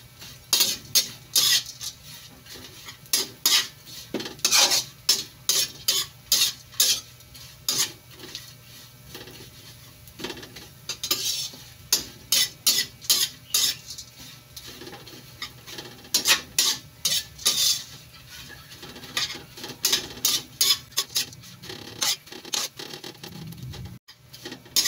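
Dried anchovies (dilis) frying and being stirred in a pan, with repeated scraping and clinking of a utensil against the metal in quick bursts over a steady faint sizzle, close up and without talk.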